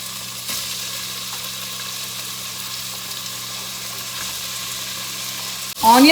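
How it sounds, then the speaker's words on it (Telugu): Chili and onions frying in hot oil, a steady close sizzle running throughout, with a louder burst of crackling and clatter at the very end. "సో నేనే ఆయిల్ కొంచెం మగ్గిపోయిన తర్వాత చిల్లీ వేసేస్తున్నా,"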